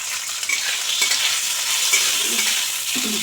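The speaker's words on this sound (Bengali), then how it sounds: "আলু আর সিমগুলো দিয়ে দেবো আলু সিম ভাজার সময় এক চামচ লবণ দিয়ে দেবো" Potatoes and flat beans frying in a kadai, a loud continuous close sizzle with light scraping as they are stirred, no voices.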